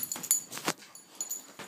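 A dog whimpers close by in a series of short, breathy whines and yips, with small gaps between them and no other sounds around.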